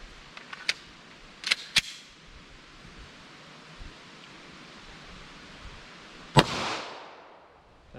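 A handgun fires Federal Hydrashok ammunition outdoors: several sharp, fairly distant cracks, a quick pair then a lone shot a few seconds later, each trailing off into faint echo over a soft background hiss.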